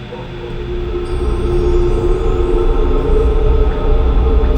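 Steady low rumble of a light rail train running, a continuous loud drone with a faint high whine, no voices.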